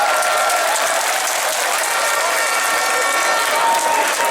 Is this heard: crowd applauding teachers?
yes